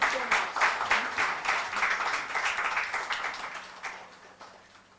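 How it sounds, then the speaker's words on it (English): An audience at a literature and art festival session applauds, brisk clapping that starts strong and gradually fades over a few seconds in a reverberant hall. "Can we have a huge round of applause, please?"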